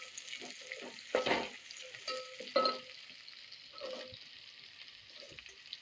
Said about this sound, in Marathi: हे पण आपल्याला असं व्यवस्थित छान परतून घ्यायचंय.